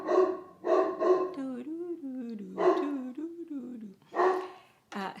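A pet dog barks in several loud, close bursts, with whining and whimpering between them, while a person talks over the noise.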